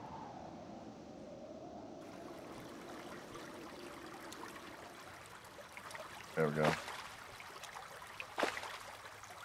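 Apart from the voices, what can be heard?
flowing water in Terraria video game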